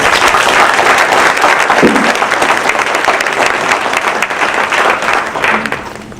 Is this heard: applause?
yes